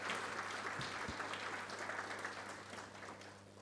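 An audience applauds at a sustainability report launch celebrating a company's 60th anniversary, with steady, fairly faint clapping heard from a distance and a low hum underneath.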